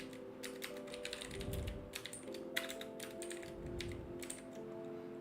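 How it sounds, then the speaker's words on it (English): Rapid keystrokes clatter on a computer keyboard during coding practice, a steady run of close clicks and taps over a low electrical hum, with no voices. "what happened to my typing?"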